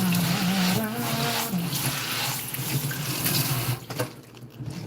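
Tap water streams into a kitchen sink as green onions are washed, a steady, loud splashing rush that shifts as the bunch moves under the flow, then breaks up and trails off at the end.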